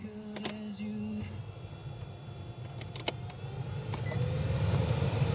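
A newly installed blower motor in a 2007 Mitsubishi Outlander runs steadily, a constant low whir and rush of air that swells slightly louder toward the end, with a few brief clicks and a short tonal hum early on.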